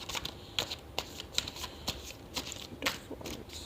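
Tarot cards are shuffled and drawn, close and quiet, giving a series of crisp, separate flicks and snaps at an uneven rhythm with soft rustling between them.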